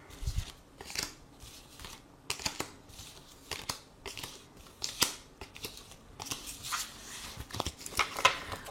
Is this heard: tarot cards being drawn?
yes